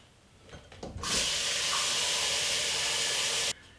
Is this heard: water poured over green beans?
yes